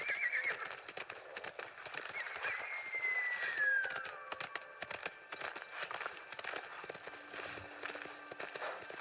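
Hooves clip-clop in a steady trotting rhythm, with a horse's whinny rising and falling early on, all fairly faint; a horse in the video game Ghost of Tsushima.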